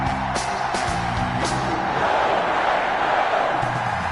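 A stadium crowd in an EA Sports football game sends up a continuous, loud roar of cheering for a Chicago Cougars versus Green Bay Packers matchup, with a few sharper shouts rising early on.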